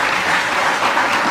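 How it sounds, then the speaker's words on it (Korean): Audience applause at the opening ceremony of a National Assembly forum on rice policy, a steady, fairly loud burst of many hands clapping together with no voices over it. "박수 한번 크게 보내주시기 바랍니다."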